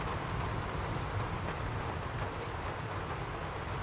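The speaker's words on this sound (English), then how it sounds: "That's some freezing rain" Freezing rain in a video game, a steady, fairly quiet wash of falling rain at an inn with an even, continuous patter and no talking.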